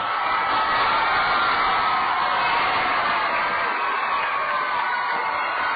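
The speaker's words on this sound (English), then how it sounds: "Listen to the crowd." A minor-league baseball crowd at a Cedar Rapids Kernels home game against the Kane County Cougars roars and cheers steadily as a late-inning at-bat builds, a continuous, fairly loud wall of voices from a stadium full of fans.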